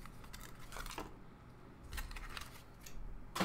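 A Zipper Pack Opener slicing open a Modern Masters 2015 Magic card pack, giving a few quiet, crisp snipping and tearing sounds close by.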